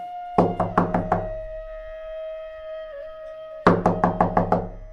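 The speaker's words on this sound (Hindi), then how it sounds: "कुछ देर बाद दरवाजे पर खटखटाने की आवाज आती है।" Two bursts of sharp knocking on a door in a Hindi cartoon, about five quick raps each, separated by a pause with a steady low hum underneath.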